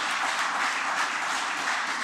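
Applause for club president Yevgeny Borisovich Bogachev at a ceremony in Tatarstan: dense, steady clapping from a crowd, sustained and even throughout with no voices over it.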